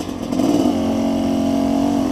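A brand-new motorcycle, just out of the dealership, holds a loud, close, steady engine drone after a short rise in revs. It keeps a constant buzzing tone throughout, with no talking.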